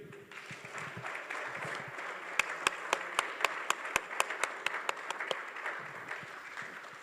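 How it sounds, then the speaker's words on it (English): Audience at a conference on national infrastructure and consulting bursting into applause after a shouted group response, dense crowd clapping with one nearby pair of hands striking sharp, regular claps, then tapering off. "you are going to shout, thank you, and then you will clap."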